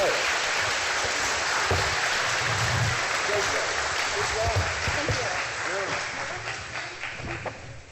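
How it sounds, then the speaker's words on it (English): Audience applause for state representative debate candidates at a Howell County debate, a steady broadband patter of clapping filling the room for several seconds, with voices talking over it and the clapping thinning toward the end. "We have a round of applause for the candidates."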